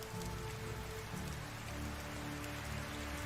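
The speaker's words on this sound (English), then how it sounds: "It's really peaceful, this game, to like hear the rain and stuff while you're indoors working." Rain falls steadily in Medieval Life Simulator, a constant dense patter heard from indoors, even and unbroken, with low background game tones and no talk.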